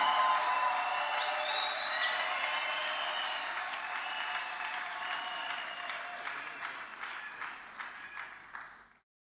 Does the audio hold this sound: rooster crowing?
no